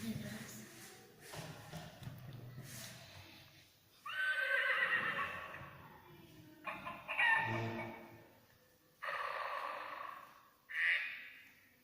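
A horse neighs in a run of whinnying bursts, about four loud, drawn-out calls separated by pauses, with a fainter rooster-like crow and quiet voices in the quieter stretches.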